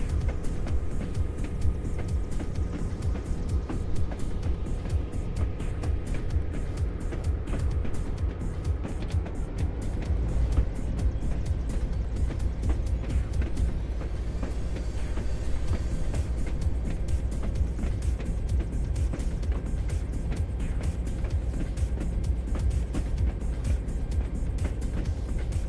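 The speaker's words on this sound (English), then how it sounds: "It's a 71 Chevelle SS LS6" A 1971 Chevelle SS LS6 with a 4-speed rumbles continuously, a deep steady V8 drone with dense low-end pulsing that holds at a constant loudness throughout.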